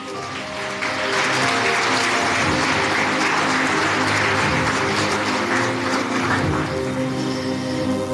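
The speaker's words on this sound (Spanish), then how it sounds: "¿Cuántos le aplauden al Señor?" A church congregation gives sustained applause to the Lord, a dense, steady wash of many hands clapping together, loud and continuous for several seconds before tapering slightly.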